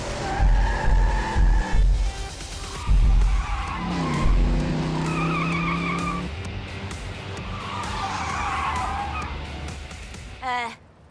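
Tires squeal as a toy-style car skids and races through a Hot Wheels City video game, with loud engine revs and screeching bursts running steadily throughout, ending in a sharp rattling crash.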